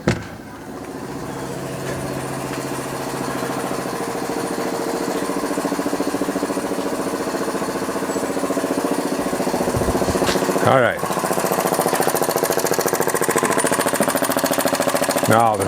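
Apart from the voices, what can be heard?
model steam engine running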